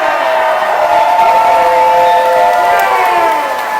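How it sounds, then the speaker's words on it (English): A crowd at the Newport finals lacrosse game cheers and whoops steadily, a broad, loud wash of many voices that holds through the whole moment without letting up. "Let's hear it, crowd."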